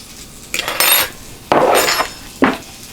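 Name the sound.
fork being dropped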